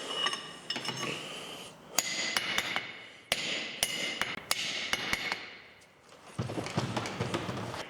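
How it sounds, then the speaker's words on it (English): A hammer taps a steel taper into a snug fit on a scrap-metal blacksmithing guillotine tool, a series of sharp metallic strikes spaced irregularly, some in quick pairs, over scraping and shuffling noise; no voices. "I think a couple taps is going to give us a good snug fit."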